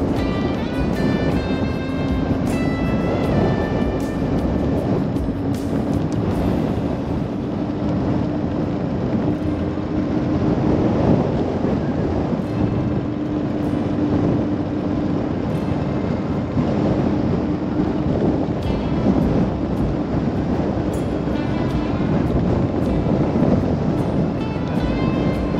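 Strong wind buffets a microphone at a lake shore, a steady loud roar with a jacket collar flapping close by and no talking.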